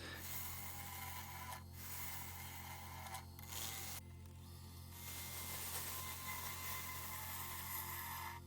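A wood lathe hollows a driftwood bowl from an unknown wood found on a Cornish beach. The gouge rasps and scrapes steadily over a constant low machine hum, with a couple of brief pauses in the cutting.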